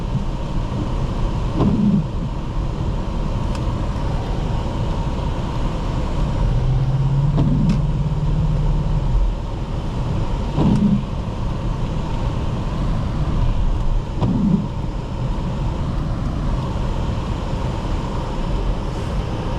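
A 2001 BMW X5 4.4i with a 5-speed automatic drives along under a steady engine and road drone heard from the cabin, with several brief bumps and rises in tone as it goes.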